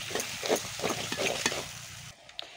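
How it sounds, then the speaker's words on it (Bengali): A handful of leaves, fenugreek, onion and aloe vera are stirred through hot oil in a pan, soft scraping strokes and a light sizzle for about two seconds before the sound drops away, close and quiet. "এই যে সব আমি দিয়ে এগুলো ভালো করে তেলের সাথে মিশিয়ে নিব"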